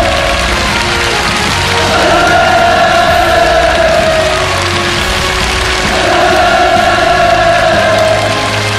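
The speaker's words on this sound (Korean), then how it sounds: "위대한 김정은 동지를 우러러 격정의 눈물을 쏟고 쏟으며 열광의 환호를 터쳐 올렸습니다." A massed crowd cheers at a North Korean state celebration honouring military medical workers. The roar of voices is loud and continuous, swelling into fuller waves of shouting twice and sustaining throughout.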